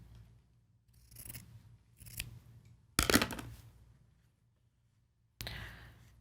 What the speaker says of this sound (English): Take one end of this long piece of fabric and snip it at an angle.